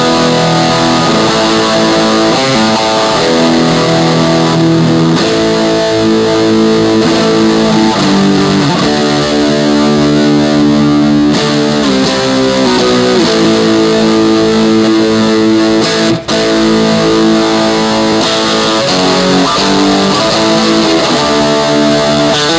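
An electric guitar played through a high-gain distortion pedal gives a loud, dense, saturated tone that is sustained throughout, with shifting chords and riffs and no pauses.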